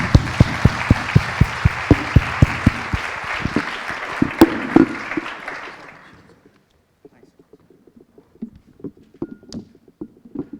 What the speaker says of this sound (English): I would like to ask the audience to applaud our guest today.